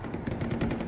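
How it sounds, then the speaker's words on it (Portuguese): Gunfire is exchanged in the video game Far Cry 4, with rapid repeated shots popping in a quick, uneven burst over a dense backdrop, moderately loud. "vou me esconder aqui que tá tendo uma troca de tiro ali em cima"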